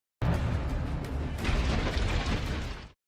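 A drone strike hits a Russian Tulpan self-propelled mortar vehicle, a loud, broadband explosive roar that starts abruptly and rumbles heavily for about three seconds before cutting off.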